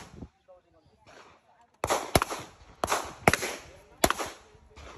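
Gunshots ring out at an outdoor gun range: after quiet conversation, four sharp, loud reports come at irregular intervals about a second apart, each with a brief echoing tail, with voices talking in between.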